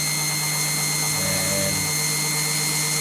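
A 1972 1200 VW Beetle valve face is ground clean of carbon deposits with 240-grit abrasive, giving a loud, continuous high-pitched grinding whine with a brief deeper dip in tone midway.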